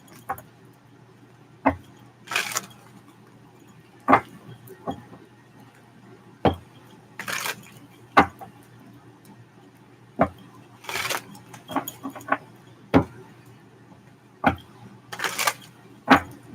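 Tarot cards are shuffled and tapped in a string of sharp, uneven riffles and clacks, each short burst standing out close and crisp against a quiet room.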